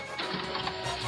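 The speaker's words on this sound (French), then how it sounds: "Oula, mais c'est un fax?" Fax machine printing, a short burst of steady mechanical whirring and ticking close by, with no talk over it.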